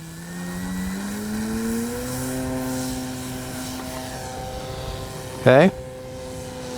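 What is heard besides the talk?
Hangar 9 20cc Valiant RC airplane engine in flight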